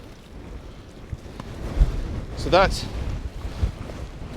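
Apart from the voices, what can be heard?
strong wind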